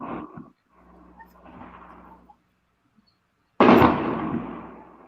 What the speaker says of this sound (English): Somebody's putting off fireworks.